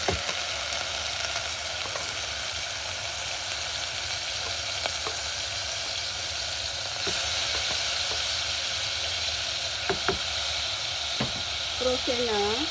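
Frozen onions fry in olive oil with a constant hissing sizzle, occasional pops and utensil taps, and a faint voice briefly near the end.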